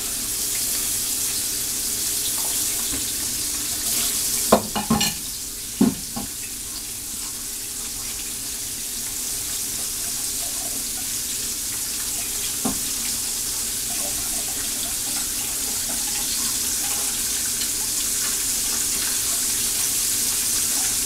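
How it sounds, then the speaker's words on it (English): Water runs steadily from a kitchen tap as hands are washed beneath it, a continuous close hiss with a few brief splashes and clatters early on, no talking. "Wash my hands."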